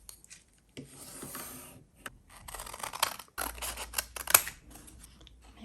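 Scissors snip through paper for a junk journal in a series of short, close, crisp cuts and rustles with brief pauses between them and no talking.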